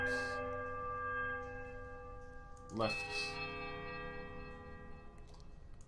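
Bells ring in the Pillars of Eternity II video game, a sustained metallic tone with a fresh clang struck midway that rings out and decays, while a voice speaks briefly over it.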